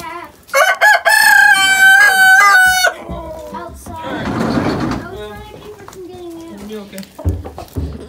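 A rooster crows loudly and close by in a backyard flock, followed by hens clucking and squawking, with children's voices and speech mixed in.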